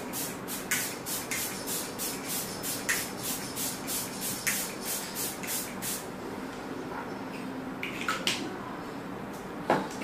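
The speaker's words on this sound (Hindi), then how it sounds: "फॉरएवर 52 का जो फिक्सिंग स्प्रे है, सेटिंग स्प्रे है, वो यूज कर रही हूँ।" Forever52 makeup setting spray misted onto a face in short close hisses, several quick bursts in a rapid series followed by a pause and a few more puffs, with faint rustling in a quiet room and no talking.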